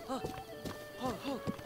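A video-game horse whinnies and its hooves clop in short bursts, mixed with background game music and sounds.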